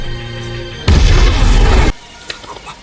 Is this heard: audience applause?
no